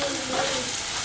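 Spiced potato and parwal bhujia with turmeric and red chilli powder being stirred in a pan over a low flame, giving a steady soft sizzle with faint scraping, close and continuous with no talking.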